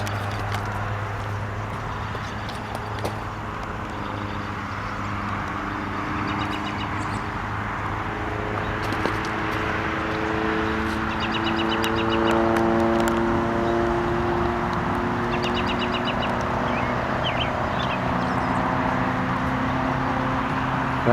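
Steady low roar of traffic from a nearby noisy highway in Sharonville, Ohio, a constant rumbling wash under scattered bird calls and faint insect buzzing.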